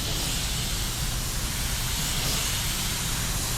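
A homemade DIY spray gun sprays yellow automotive paint thinned with slow reducer, giving a steady, close, unbroken airy hiss that holds at the same level throughout with no voices.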